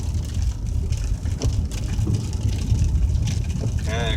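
Rain on a rainy day in Pulaski, Virginia: a steady hiss of falling rain with road and vehicle rumble throughout, fairly loud and continuous, with a brief chirp near the end.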